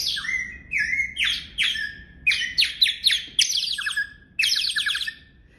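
Metal water bird whistle blown in short bursts, giving a string of bright warbling chirps that mimic birdsong, close and fairly loud with brief gaps between trills.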